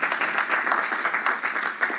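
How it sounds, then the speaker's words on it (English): Commencement audience applauding, dense continuous clapping from a large crowd filling a graduation venue, steady and fairly loud without speech. "give her a round of applause,"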